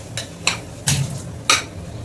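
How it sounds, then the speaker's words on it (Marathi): Pavta beans stirred in a pan with turmeric, giving four spaced scraping strokes of a spoon against the pan over a low background hum, close and moderately loud with no talk. "मग याच्यात आता पावटा टाकणार आहे"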